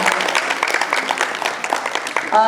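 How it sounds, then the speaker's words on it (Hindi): Audience applauding performers at a stage play, a dense patter of many hands clapping at close range, loud and continuous for a couple of seconds. "तो आप सभी के लिए तालियां मेरे कलाकारों की तरफ से, जोरदार तालियां"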